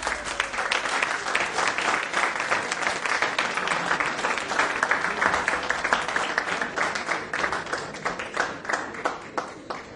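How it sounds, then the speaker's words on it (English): Lecture audience on Vedic civilization bursts into loud, sustained applause, dense overlapping claps rolling steadily for the full stretch with no pause. "Don't clap quite so often, otherwise you are left with claptrap."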